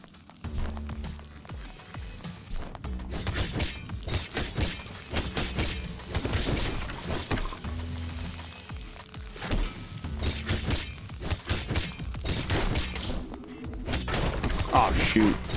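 TVs get smashed in the video game Boyfriend Dungeon, repeated sharp shattering crashes and hits in rapid bursts over busy game music and effects.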